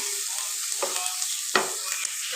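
Onion, carrot and capsicum frying in hot oil while being stirred, a steady sizzle broken by a few sharp spatula scrapes, close and fairly quiet, no voices.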